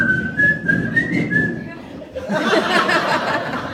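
Someone whistles a short, bouncy jingle melody for under two seconds, then laughter and chatter from a crowd take over.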